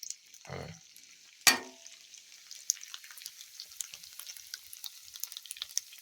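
Cheddar bratwursts sizzle on a Blackstone flat-top griddle, a steady soft crackle with a sharp metallic scrape or clatter near the start and scattered pops throughout, fairly quiet and without talk.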